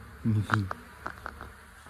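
Bees buzz close by in an uneven drone, with a few brief low murmurs from a nearby voice and light tapping sounds around them.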